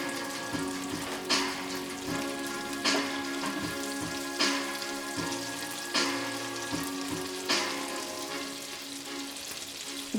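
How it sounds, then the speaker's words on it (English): Butter and mustard sizzle in a pot on a stove while steak is prepared, a steady close frying hiss broken by a few soft periodic taps or stirs. "we put some also in the butter that is sizzling away here"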